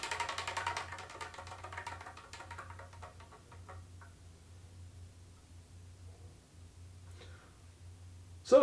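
A selection wheel is spun and ticks rapidly at first, then slows to sparse, faint clicks as it winds down, under a steady low hum.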